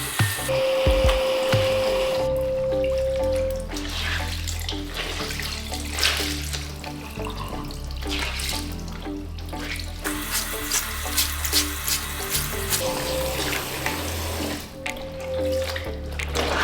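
Tap water runs steadily into a sink while laundry is rinsed by hand, a loud continuous splash with wet squishing and shifting as the fabric is worked under the stream.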